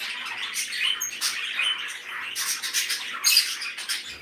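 Pet birds in an indoor bird room, including a budgie, chirping and squawking in busy overlapping bursts, close and bright, with no talk.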